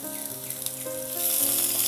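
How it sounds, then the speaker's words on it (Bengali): Chopped onions drop into oil left from frying rui fish and sizzle loudly and steadily in the pan, the hiss swelling toward the end, close and without talk. "এই মাছ ভাজা তেলে আমি পেঁয়াজ কুচি দিয়ে দিব।"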